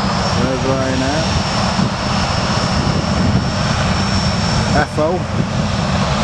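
Ryanair airliner engine at Manchester Airport on a freezing morning, a loud steady roar filling the whole stretch, with a person talking briefly over it.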